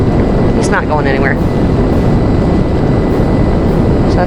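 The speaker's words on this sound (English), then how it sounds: "But he turned the jet back on." A jet engine runs steadily in GTA at Fort Zancudo, a loud continuous roar throughout, with a voice talking briefly over it near the start.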